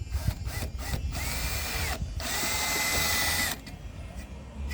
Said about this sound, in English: Just doing little starter holes there.